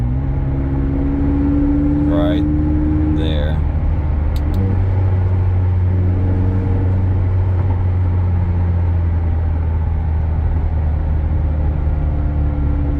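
A 2020 McLaren 600LT drones with a deep, steady engine note while driving, its pitch dropping as it shifts gears. A brief voice speaks over it.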